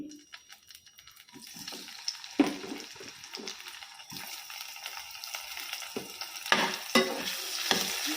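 Tomatoes frying in about two tablespoons of oil in a kadai, a close, continuous sizzle broken by frequent sharp ladle scrapes and clinks as they are stirred.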